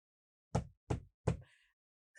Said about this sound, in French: Elle frappe à la porte